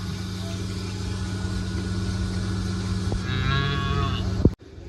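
A cow in labour, calving on a dairy farm, lets out a long, strained moo, close by, over a steady low engine hum and some background voices.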